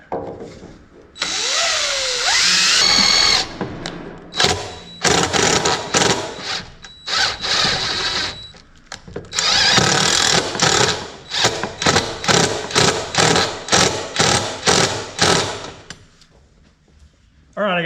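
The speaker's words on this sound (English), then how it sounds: "let's get this one drilled" Power drill boring a hole into an RV TV mount in a 2005 American Eagle motorhome, loud close bursts of whirring drilling that start and stop repeatedly, several long runs followed by a series of short rapid pulses.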